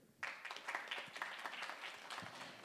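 A small audience breaks into brief clapping at a Christmas gathering, a quick burst of hand claps that starts sharply and carries on for a couple of seconds at moderate distance.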